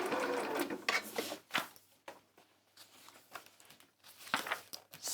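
A sewing machine stitches the circular base of a tote bag in short, steady bursts of rapid whirring and needle clatter, with brief pauses as the fabric is turned, close and fairly quiet.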